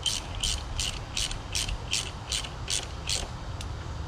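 Ratchet tightening spark plugs on a 2004 Chevrolet Trailblazer 4.2 engine: about nine rapid, evenly spaced clicking bursts roughly every half second, close and clear over low background hum, with no talking.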